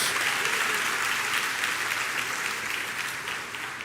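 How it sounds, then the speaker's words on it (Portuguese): A church congregation gives a dense, sustained round of applause to the Lord, a steady wash of many hands clapping at close range that eases slightly toward the end. "Dá uma salva de palmas ao Senhor."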